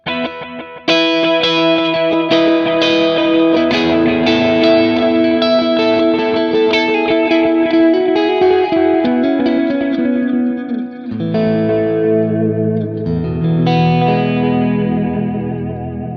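Electric guitar run through a Line 6 Helix with chorus and delay, a continuous flowing line of notes trailed by loud, smeared repeats that wash into one another, heavily effected and alone without talk.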